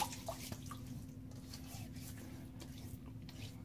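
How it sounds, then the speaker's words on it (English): Water splashes on a man's cheeks before a wet shave, heard as faint, soft squishing and dripping sounds close by in a quiet bathroom, barely above a low background hum. "gonna wet my cheeks real quick"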